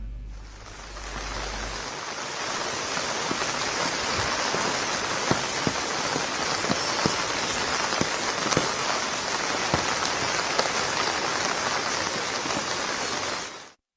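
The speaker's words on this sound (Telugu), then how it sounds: "భారీ వర్షాలతో అరుణాచల్ ప్రదేశ్ అతలాకుతలమవుతోంది" Heavy monsoon rainfall in Arunachal Pradesh, northeastern India, beats down in a loud continuous roar with sharp drips and splashes on surfaces, after a brief low hum at the start.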